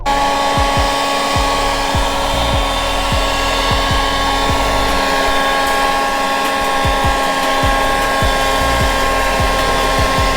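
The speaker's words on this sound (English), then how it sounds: "the way you dry it off, get a little leaf blower." A steady, loud leaf blower drying a coated Toyota Supra roars continuously with a constant high whine, with faint clicks and taps underneath.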